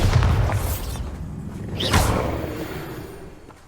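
A Bombarda blasting spell in Hogwarts Legacy goes off as a loud, close boom with a swooshing rush, followed by a second whooshing burst that fades into a rumbling tail.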